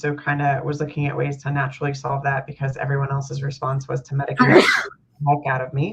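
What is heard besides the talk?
sneeze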